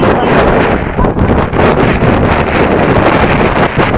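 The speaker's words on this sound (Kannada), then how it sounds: "ಗಾಳಿ ಜೋರಾಗಿ ಬೀಸ್ತೈತಿ" Strong wind buffets the microphone in heavy, fluctuating gusts across the whole short stretch, loud and rumbling with no pause.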